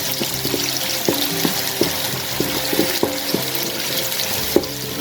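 Finely chopped small onions fry in hot oil for chicken fried rice, giving a steady close sizzle punctuated by regular scraping knocks as a spoon stirs the pan.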